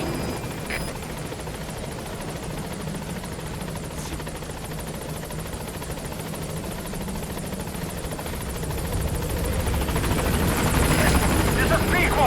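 Helicopter in the Metal Gear Solid V video game approaching a landing zone, a continuous rotor chop and engine whine that swells louder toward the end, with radio voice chatter over it.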